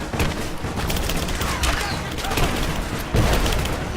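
Gunfire erupts in Rise of the Tomb Raider, rapid overlapping volleys and bursts crackling almost nonstop, with heavier booms near the start and past three seconds amid combat noise.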